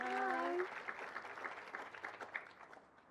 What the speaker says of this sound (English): give a big round of applause for Livia